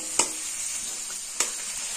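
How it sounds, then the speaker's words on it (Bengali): Chopped capsicum frying over a high gas flame for chilli chicken: a continuous close sizzle broken by two sharp scrapes of a spatula against the pan. "আমি গ্যাসের ফ্লেমটা হাইতে করে দিয়েছি, দিয়ে 2 মিনিট এগুলো ভেজে নেব।"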